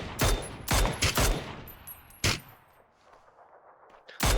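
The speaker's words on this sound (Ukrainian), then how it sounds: "три, три по нас стріляють" Rapid bursts of gunfire in a multiplayer shooter video game crack in quick clusters as three enemies shoot, then a lone shot and a fading tail before a final loud blast.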